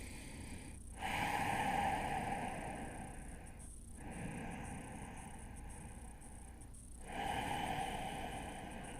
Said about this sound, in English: flex the feet, holotropic breathing.